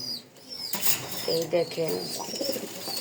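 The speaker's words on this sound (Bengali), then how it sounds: "সুন্দর করে ডাকে, শরীর ফুলিয়ে ডাকে।" A pet pigeon puffs up its body and gives a few low, throaty coos in quick succession. Someone speaks briefly at the start, and a short flutter follows.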